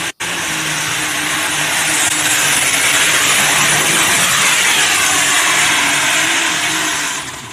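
A loud, continuous roar from a 505 engine with four turbochargers burning methanol, running at full throttle for several seconds before abruptly cutting off.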